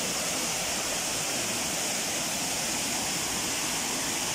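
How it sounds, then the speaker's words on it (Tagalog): Steady broadband rush of a waterfall at a farm resort's wide bathing pool, a continuous roaring wash of falling water heard alone without talk. "Ayan yung falls."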